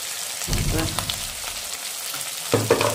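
Cabbage sizzles and crackles in a hot pan with turmeric, cumin and coriander powder, steady frying hiss with two bursts of louder stirring, close and alone.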